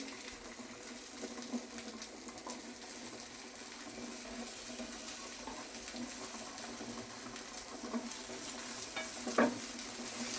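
Chicken cheese cutlets cook in a pan over a low flame, giving a steady soft sizzle with light stirring and scraping noises throughout and one slightly louder scrape near the end.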